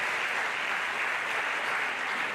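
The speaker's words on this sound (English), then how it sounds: "that deserves a round of applause as well" Steady, dense applause from an audience at a university event honouring the Vice Chancellor, continuous and even throughout.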